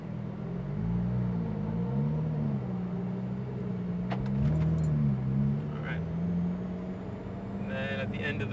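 A Porsche GT3 RS on a track setting holds a steady low engine drone with gentle rises in revs. The car sounds as if heard from inside the cabin, and a few faint clicks come in near the end.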